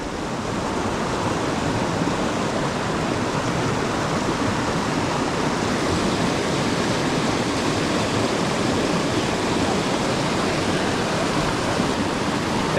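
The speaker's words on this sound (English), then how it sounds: "This is the creek we're fishing, by the way." A mountain creek in California rushes steadily, a loud, dense and unbroken roar of flowing water close by with no voices.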